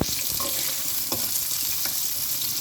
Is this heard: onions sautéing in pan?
yes